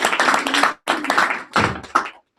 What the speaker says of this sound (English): You clap for your shot